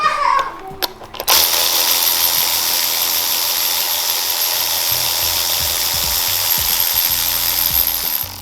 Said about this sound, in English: I'm gonna put my electric wrench on this thing so we can take it off quickly.